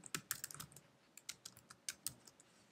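Keys on a computer keyboard tap out code in quick bursts, about a dozen crisp clicks with short pauses between groups, close and fairly quiet, with no voice.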